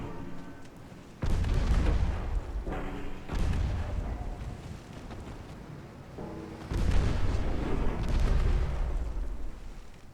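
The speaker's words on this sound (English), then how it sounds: "Look at all the damage it's taking from the 5-inch guns." 5-inch naval guns fire in a warship battle game, heavy booming blasts in a few loud bursts with rumbling between them, close and dominant with no talk.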